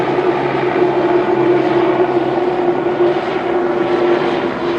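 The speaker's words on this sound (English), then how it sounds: "Los Angeles Police Department helicopter." A Los Angeles Police Department helicopter passes overhead, its rotor and engine making a loud, steady droning hum with a pulsing texture that holds at close range throughout.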